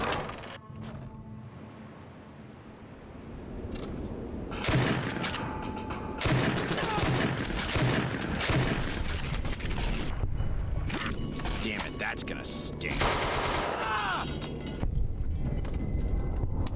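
Bursts of gunfire rattle through a fight in the video game Fallout New Vegas, with sharp repeated shots, clanking weapon mechanisms and booming impacts stacked over a low rumble across the whole stretch.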